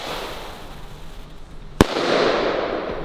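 A Thunderking firecracker goes off with a single sharp, loud bang against a steady hissing background, followed by a brief wash of rumbling noise.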